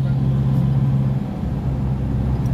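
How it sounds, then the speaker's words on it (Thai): The engine of a Toyota pickup with a five-speed gearbox and a swapped rear-end ratio hums steadily while driving, a close, low, even drone heard from inside the cab, with no clear revving. "เสียงเครื่องเห็นไหมเสียงเครื่องไปเสียงเครื่องหายไปเลยไหม"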